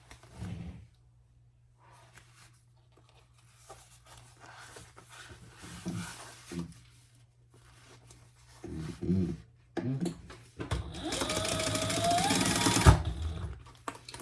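A sewing machine top-stitches across a fabric phone pouch in short, stop-start runs, faint at first and ending in a louder, steadier burst of stitching.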